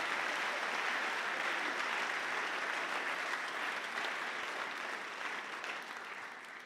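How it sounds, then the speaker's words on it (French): Sustained, even applause from an audience at a young researchers' award ceremony honors a doctor, a dense continuous crackle of many hands that holds steady and tapers slightly toward the end. "On peut vous applaudir, docteur."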